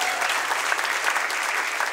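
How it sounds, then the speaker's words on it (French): Steady, dense applause from a church congregation at a Sunday service, continuous and fairly close, filling the whole stretch without pause. "Est-ce qu'on peut l'applaudir encore"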